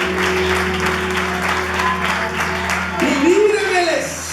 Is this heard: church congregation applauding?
yes